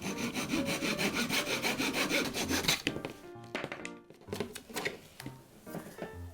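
A hand saw cuts from the back through a Seria 100-yen shop frame for a miniature display case, with fast rhythmic rasping strokes for nearly three seconds, then a pause and a few shorter scraping strokes with light taps.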